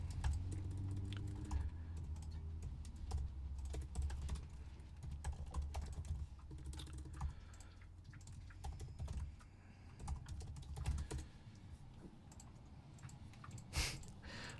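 Typing on a computer keyboard, quiet close-up clicks coming in irregular bursts and pauses, some fumbled keystrokes among them, with no voices.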